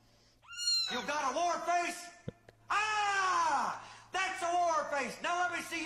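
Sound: cat meowing

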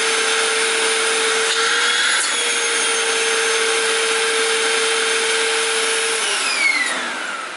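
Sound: Hoover vacuum cleaner running

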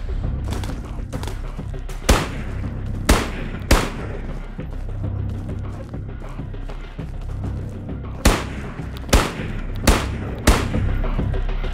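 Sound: gunfire from the video game Ghosts of Tabor

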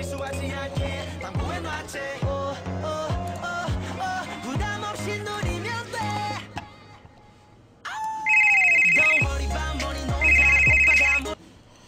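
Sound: telephone ringing

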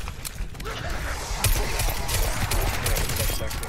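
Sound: gunfire from a magnum in a video game

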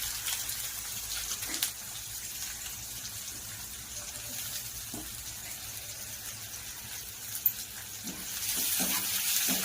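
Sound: onion frying in a pan

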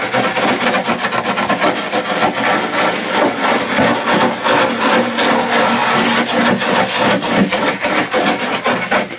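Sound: roughing up cracked tub surface by hand before fiberglass repair

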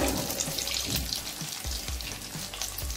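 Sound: beef stick boti frying in hot oil

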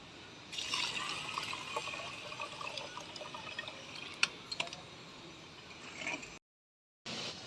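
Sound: rice and water pouring while cleaning ration rice

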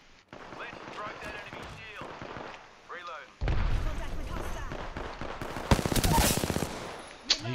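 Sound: gunfire in Apex Legends video game

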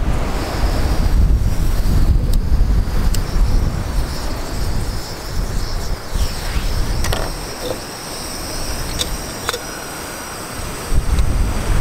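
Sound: wind blowing

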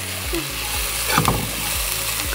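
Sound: onion frying in pan

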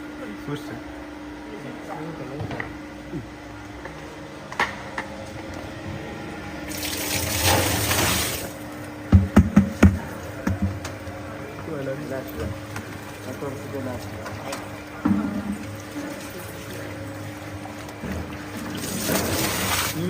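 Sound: machine mixing mango pieces with pickle gravy

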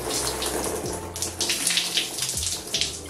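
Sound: water running while rinsing a child's hair

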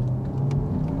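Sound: Porsche Taycan Turbo S electric sport sound from speakers

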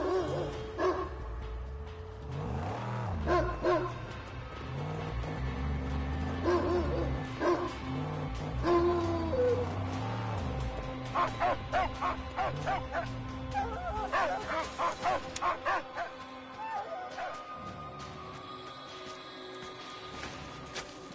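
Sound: dog barking and whimpering in Mad Max video game

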